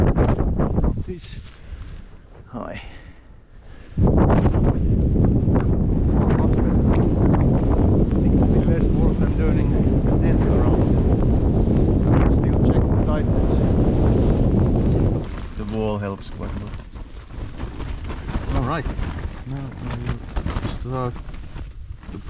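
Strong Arctic wind in Finland beats against a tent in a sustained, gusting roar that rises abruptly and holds for about ten seconds. The wind then eases as a voice speaks close by over the lingering gusts.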